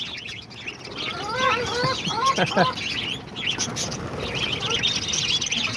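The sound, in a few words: small pet birds chirping: lovebirds, cockatiels, parakeets, diamond doves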